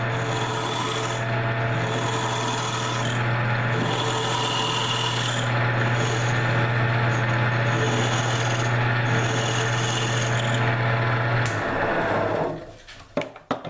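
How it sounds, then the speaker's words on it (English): A steel scraper working a walnut wood salt cellar, producing a continuous rasping, rubbing scrape with a steady low hum beneath, loud and close for about twelve seconds before stopping with a few light knocks. "And with a good scraper, you don't have to do a lot of sanding"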